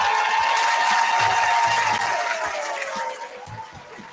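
A crowd at an evening art fundraiser breaks into dense, loud applause that holds steady for a few seconds and then gradually fades out.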